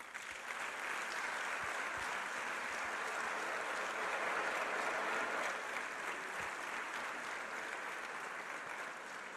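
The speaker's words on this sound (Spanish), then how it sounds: "les pido un aplauso." Sustained crowd applause at a charity grape-harvest fundraiser event, dense and steady throughout, with faint voices mixed underneath.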